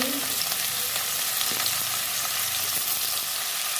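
Onion and tomato frying in a pan for paneer chilli, giving a steady, loud sizzle with occasional faint stirring clicks throughout.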